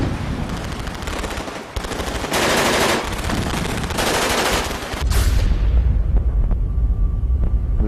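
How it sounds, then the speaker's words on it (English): Machine gun fire in a D-Day beach landing battle, a loud, dense, continuous rattle of rapid shots with roaring bursts, then shifting into a deep, heavy rumble. "The machine gun just opened up."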